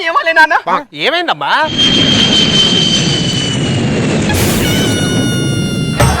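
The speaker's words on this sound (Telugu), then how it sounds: "పైనుంచి ఫ్లైట్ వెళ్తుందిగా" An airplane passes low overhead, a loud sustained jet roar with a whining tonal edge that swells in after a couple of people exchange a few lines of dialogue, then continues alone.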